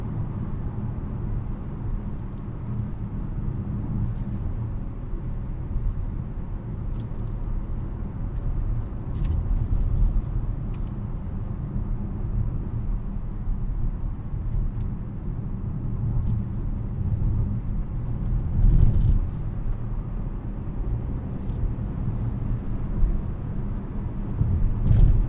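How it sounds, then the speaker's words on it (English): Steady low engine drone and road rumble inside a 2024 Chevrolet Trailblazer RS AWD climbing a hill, with a constant cabin hum for the whole stretch and no shifts or talking. "You give it a little bit going up a hill, it doesn't really downshift."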